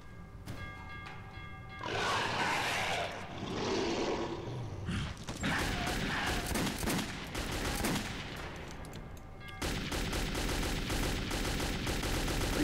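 Rapid gunfire from a first-person shooter, Metro 2033, with repeated loud bursts and shots packed together across the clip and dense game noise underneath.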